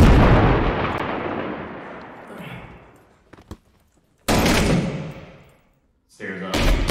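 Heavy booming gunfire and blasts in the video game Six Days in Fallujah, a loud explosion decaying slowly, then two more abrupt loud bursts after a near-silent gap.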